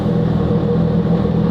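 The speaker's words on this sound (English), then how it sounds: "that's exhaust valves" Sports car with traction control off and sport mode on, engine rumbling steadily as the exhaust valves open, a continuous low droning burble heard up close with no talking.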